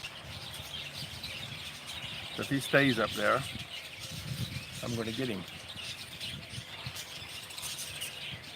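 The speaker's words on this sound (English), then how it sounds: "You hear the bird?" Short chirps from a bird outdoors come through in two brief bursts of quick rising notes, heard at moderate distance while someone talks over a faint background hiss.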